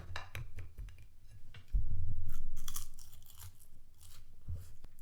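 A Ukrainian chocolate candy similar to a Kinder Bueno is bitten with a sharp crunch, followed by close, soft chewing and mouth sounds.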